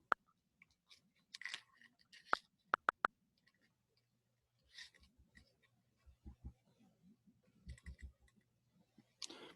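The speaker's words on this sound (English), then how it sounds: "Okay, so we're typing now." Sparse, scattered keystrokes on a computer keyboard, a few sharp isolated clicks and short bursts separated by pauses, quiet and fairly close, with no talking.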